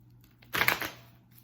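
A deck of tarot cards gets a quick riffle shuffle, a brief burst of papery flutter and clicks lasting about half a second against a quiet background.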